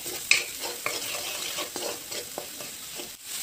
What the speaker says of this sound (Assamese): এইখিনি অকণমান টাইম ভাজিম, গতিকে এইখিনি মছলাৰ মাজত ধুনীয়াকৈ সোমাই যায়।